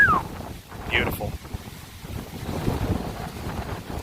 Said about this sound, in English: it is very, very windy out here